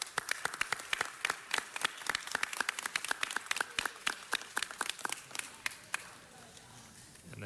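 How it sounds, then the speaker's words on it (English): Scattered, crisp hand claps from a modest audience at a city council meeting, sharp and fairly close, thinning out toward the end before fading into quiet room noise. "let's take a moment to give them a big round of applause."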